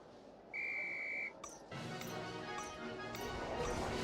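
A single sharp, sustained whistle blast of about three-quarters of a second sounds in a PS1 Harry Potter game, followed by clattering game effects and a busy, layered soundtrack.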